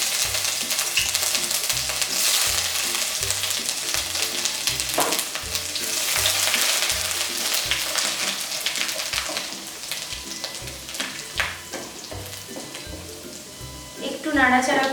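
Chopped ginger and garlic fry in hot oil in a wok, giving a continuous close sizzle with stirring crackles, while a voice talks over it.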